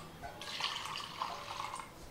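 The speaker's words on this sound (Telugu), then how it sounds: "1-2 కప్పుల వాటర్ వేసి" Water is poured from a cup onto toor dal to soak it, a soft, quiet splashing and trickling that runs steadily for about two seconds.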